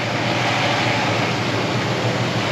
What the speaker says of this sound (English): We're gonna let Brad just go ahead and winch in the rest of it.